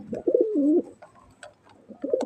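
Budapest pigeons cooing up close, two distinct throaty coos at the start and end with soft rustles and clicks between.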